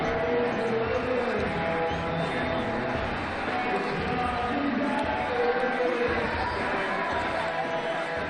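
A steady, dense roar of a stadium crowd cheering in a cricket video game, an ICC Champions Trophy match between India and New Zealand, continuous and loud throughout with no clear breaks.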